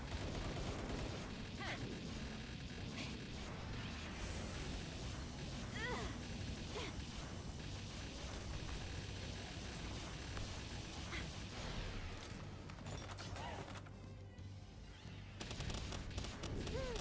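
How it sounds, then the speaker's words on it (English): Video game firefight with soldiers shooting each other: dense, continuous rattling gunfire and scattered booms fill the whole stretch, loud and busy, with a voice talking underneath. "They're like kind of shooting each other."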